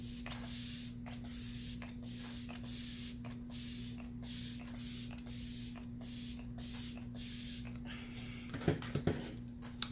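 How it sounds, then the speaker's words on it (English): Makeup setting spray is pumped in a rapid run of short hissing spritzes over a faint steady hum, followed by a couple of soft knocks. "Should put my setting spray on first, but oh well. I'm gonna do it now."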